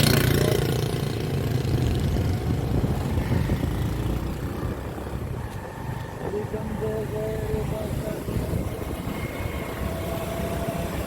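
A motorcycle engine runs steadily throughout, a continuous mid-range drone on the move, with people talking over it.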